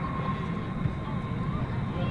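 At night, a United Boeing 737 MAX 9 airliner touches down at DFW Airport, heard as a distant, steady low rumble with a faint engine tone, briefly and at moderate loudness.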